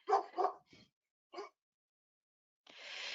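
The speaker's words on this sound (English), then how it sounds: "That's my dog in the background" A dog gives a few short barks at a distance, in two quick pairs followed by a single yip, then quiet before a hiss of background noise rises.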